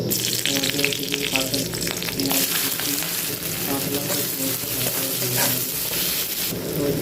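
Oil fries in a karahi on a gas stove for a potato-and-prawn curry, giving a loud, continuous sizzling hiss with crackles that holds steady throughout.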